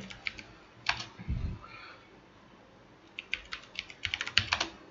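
A password being typed on a computer keyboard, with soft nearby key clicks in scattered bursts, a brief low thump partway through, and a quick run of keystrokes at the end, with no talking.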